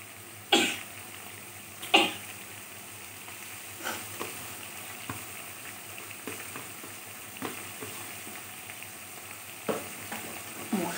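Spices fry for a taro curry with a soft continuous sizzle and stirring scrapes, broken by several sharp coughs nearby and a few throat-clearing sounds, no speech.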